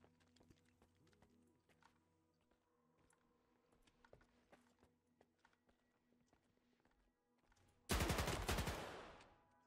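Gunfire in Stalker 2: after a quiet stretch of faint clicks and ambient hum, a loud burst of rapid shots erupts near the end, dense and close, then begins to fade.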